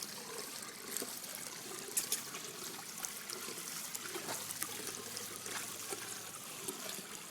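Water splashes and trickles steadily as a dog swims outdoors, a continuous close wash of sloshing with small bursts of lapping and no voices.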